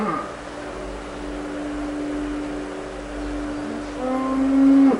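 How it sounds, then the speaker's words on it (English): Dairy cows on a large New York farm bellow in distress, with a long, drawn-out moo near the start and another rising, louder call at the end, all over a steady mechanical hum in the barn. "Many mother cows bellow in distress after their calves are taken."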